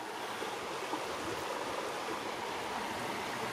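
Steady rushing of Goble Creek water flowing over rocks, a continuous broadband wash with no voices.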